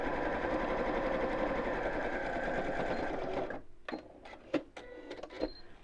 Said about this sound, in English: And sew across the bottom as well.